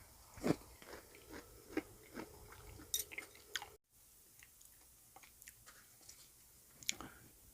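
Close, soft wet chewing and crunching of raw wild rock oyster eaten with garlic and vinegared chili paste, irregular bites and squishy mouth sounds with a brief dropout, quiet and without talk.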